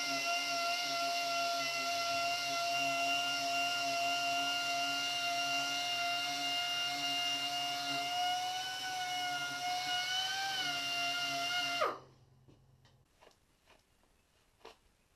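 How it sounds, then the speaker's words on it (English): A small air sander whirs steadily at a high, even pitch while smoothing the fuel tank of a Panther Villiers Model 50 motorcycle, then winds down and stops, leaving faint knocks. "I'm using a small air sander here to take off high spots"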